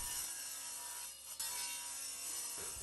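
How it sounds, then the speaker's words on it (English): Table saw with its blade tilted to 45 degrees chamfering the edges of a wooden cutting board, a steady loud whine of blade through wood lasting throughout, with a brief dip and sharp transient near the middle. "So I set the blade to 45 degrees and make the cut around all 4 sides."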